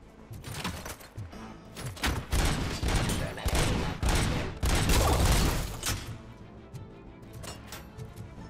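Gunfire in RoboCop: Rogue City, dense loud volleys of rapid shots and impacts hammering close for several seconds before tapering off into quiet.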